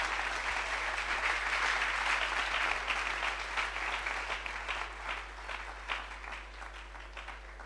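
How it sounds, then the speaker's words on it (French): An audience applauds as the Hope Clinic team walks up, a sustained wash of many hands clapping at a steady level that gradually thins toward the end, with a low hum underneath. "Let's clap as they come up."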